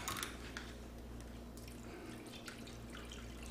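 Pineapple juice poured over chicken in a crock pot, a faint liquid trickle with soft drips and splashes scattered through a quiet kitchen background.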